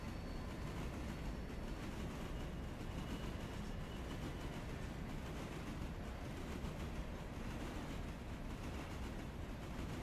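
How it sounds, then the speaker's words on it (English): Steam locomotive cylinder cocks venting in the railway game Railroader, a steady, broad, hissing rush of steam that holds at an even, moderate level throughout without pause. "Oh, I found the cylinder cocks on this locomotive by mistake."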